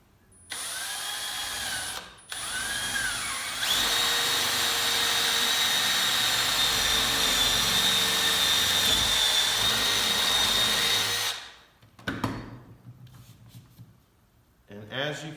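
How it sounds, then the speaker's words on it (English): A power drill bores a hole straight down through wood while a scout cabin is worked on: a loud, steady whine lasting about eight seconds after brief start-up bursts, then fading into short knocks and handling noises. "I am going to take my drill and drill through the hole straight down through as to where I marked"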